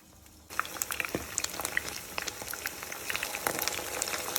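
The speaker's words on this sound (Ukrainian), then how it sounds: "Будемо жарити під закритою кришкою до готовності" Potato pies with meat filling sizzle in a hot covered pan, starting abruptly and continuing as a steady crackle with small scattered pops, close by.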